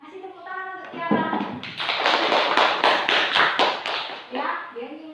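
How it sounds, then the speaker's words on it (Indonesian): A class of students claps for a classmate, a burst of brisk, overlapping hand claps lasting a few seconds, with a teacher's and children's voices just before and after. "kasih tepuk tangan untuk Tiara"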